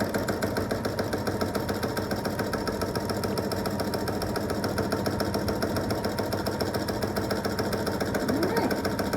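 A sewing machine runs steadily while stitching scrappy quilt squares, a fast, even mechanical whir that holds for the whole stretch at close range with no talking.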